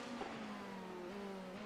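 Race car engines in an IMSA endurance racing video game at Circuit de Barcelona-Catalunya hum with a faint, steady tonal drone, one pitch rising slightly as an opponent car nears.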